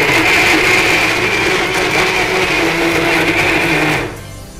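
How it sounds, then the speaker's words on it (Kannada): A mixer grinder grinds boneless chicken with water, giving a loud, steady whirring roar that runs without a break for about four seconds and then cuts off abruptly. "ಇವಾಗ ನಾವು ಚಿಕನ್ ಬೋನ್ಲೆಸ್ ತಗೊಂಡಿದ್ದೇನೆ, ಇದನ್ನು ಸ್ವಲ್ಪ ಗ್ರೈಂಡ್ ಮಾಡ್ಕೊಳ್ಬೇಕು."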